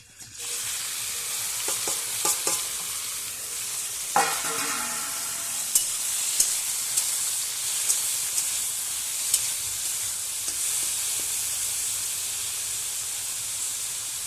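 Food fries in hot oil with a continuous close sizzle and hiss, punctuated by occasional utensil clicks and scrapes against the pan.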